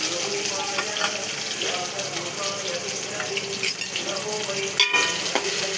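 Onions, green chilies and curry leaves frying in oil until golden: a dense, continuous sizzle with light occasional scrapes and one sharp clink near the end, heard up close.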